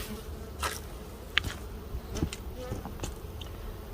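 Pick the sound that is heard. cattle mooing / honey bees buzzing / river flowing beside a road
honey bees buzzing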